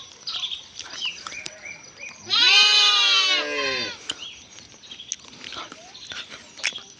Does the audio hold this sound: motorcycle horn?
no